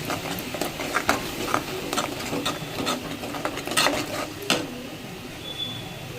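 A utensil stirs and scrapes tomato paste masala in a pan over low heat, giving irregular close metallic clinks and scrapes over a soft sizzle, with no talking.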